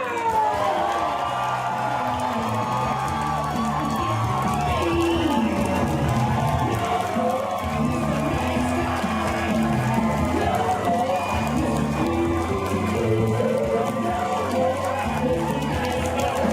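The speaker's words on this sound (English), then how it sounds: "can we get a big round of applause for the man of the hour, Mr. Alice Cooper!" A fan convention crowd at Spooky Empire cheers, whoops and applauds Alice Cooper in a loud, unbroken roar that runs the whole time, mixed with shouting voices.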